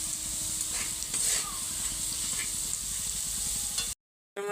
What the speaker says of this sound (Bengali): আমার আলুটা ভাজা হয়ে গেছে,